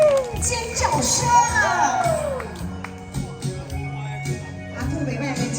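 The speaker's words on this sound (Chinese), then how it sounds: "掌声鼓励，尖叫声！" A crowd at a singing performance cheers and screams, with high shrill shouts and whoops early on, then a noisy murmur of voices and scattered calls that settles lower before picking up again.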